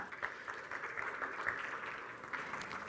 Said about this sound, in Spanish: Un aplauso para el señor Sáez,